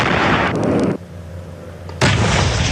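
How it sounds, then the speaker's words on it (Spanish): Aircraft-launched missile striking a rooftop where fighters prepare rockets, heard as heavy broadband blasts that roar, drop briefly to a low rumble, then surge loud again; no talk. "Fija su objetivo y dispara un misil que los alcanza de lleno."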